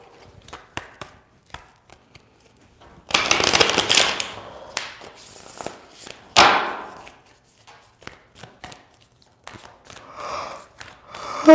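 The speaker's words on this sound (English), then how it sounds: "we're gonna do 3 shuffles for Taurus" A deck of tarot cards being shuffled in several bursts, crisp fluttering riffles close by, separated by quieter taps and handling sounds.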